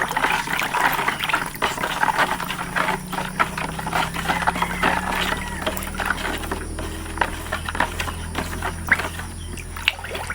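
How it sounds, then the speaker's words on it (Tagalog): Fertilizer dissolved in water being stirred for watering grape vines, giving a steady wet sloshing and trickling churn with small splashes, continuous and fairly close for about ten seconds. "Tapos na po natin haluin yung abono natin at tinunaw sa tubig."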